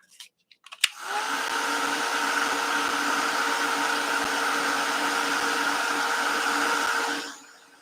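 A handheld hair dryer blows on a wet art journal page, a loud, steady close-up whoosh that starts after a few faint clicks, runs for about six seconds and then cuts off.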